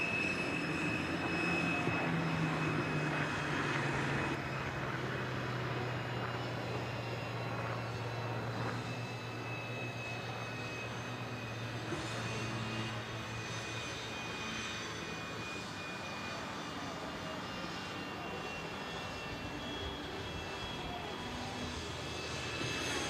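A Chance Vought Corsair propeller aircraft passing at the National Championship Air Races in Roswell, New Mexico; a distant, sustained engine drone that swells and slowly fades, alone without talk.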